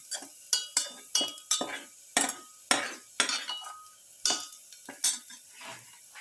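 Metal utensil clinks and scrapes against a pan while sautéing ingredients for a garlic lamb chayote pilaf, with a quick run of sharp, separate taps and stirs heard alone at close range.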